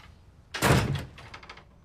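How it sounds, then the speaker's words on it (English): A door is shut with one solid thunk partway through, close and fairly loud, followed by a brief rattle and settling sounds, with no talk. "Shut the door."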